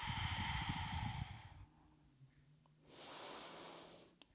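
Two long, close breaths during an Ashtanga-Vinyasa yoga practice, a strong airy exhale followed after a pause by another steady breath, with no talk.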